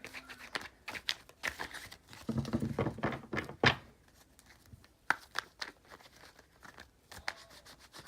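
Tarot cards being shuffled by hand during a card reading, a run of soft thumps, riffles and papery flicks in irregular bursts, close and quiet, with no talk over it.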